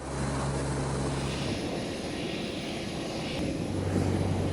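A Lockheed P-3 Orion surveillance aircraft flies by with a loud, steady engine drone and propeller hum that stays strong the whole time, with a low throb at the start and end and no talking.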